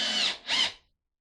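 Power drill boring a hole through a wooden floor joist: two short, close, loud whirring bursts with a brief dip between them, then silence.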